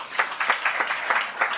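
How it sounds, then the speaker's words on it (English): A brief round of clapping from a modest audience at a multicultural event welcoming the New South Wales Premier, with individual claps audible in a quick, uneven rhythm. "Can we give him a round of applause"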